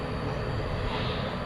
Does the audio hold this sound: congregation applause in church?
no